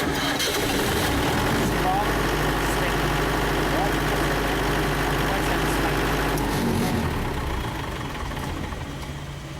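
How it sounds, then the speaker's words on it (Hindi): A Mahindra Powerol silent diesel generator set runs at its site with a steady low engine hum, loud and continuous before easing slightly near the end, with people talking over it. "ज़रा साइट पे चलें जहाँ पर डीजी लगी हुई है"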